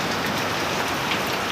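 Heavy hurricane rain in Florida near St Augustine pours down in a dense, steady hiss with no gaps, loud and close throughout, and no voices.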